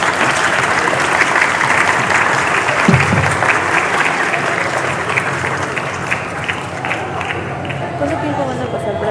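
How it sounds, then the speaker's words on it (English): A school audience claps at the close of a student English project presentation, a loud sustained burst of applause with crowd chatter and occasional cheers mixed in, gradually easing toward the end. "Claps, please, claps."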